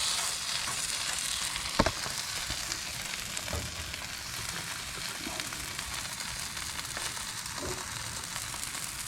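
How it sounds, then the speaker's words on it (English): Sausage and vegetables sizzle on a Blackstone griddle at a campsite breakfast, a steady broadband frying hiss with a few soft clinks of a utensil against the cooktop. "We'll go ahead and go down with our sausage."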